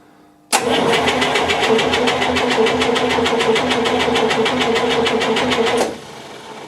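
Engine of a 1958 GMC Apache pickup cranking on the starter during a compression test, a loud, steady rhythmic chugging that starts abruptly and runs for about five seconds before cutting off, with no voices.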